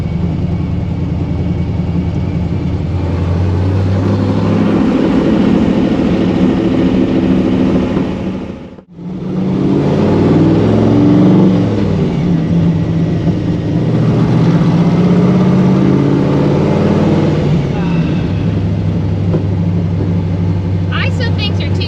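Loud, rough engine of a 1955 Chevy Nomad gasser running continuously with a brief dropout partway through, close and dominant, with people talking over it.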